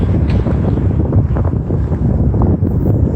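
Wind gusts buffet the microphone outdoors at night on a walk through Montreal, a loud continuous roaring rumble with uneven surges throughout.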